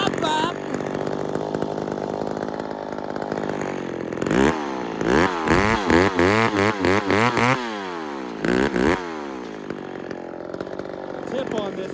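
A barn-find ProMac 55 chainsaw idles and revs, its engine popping and rising in repeated throttle bursts before settling back, loud and close, with someone talking over it between revs.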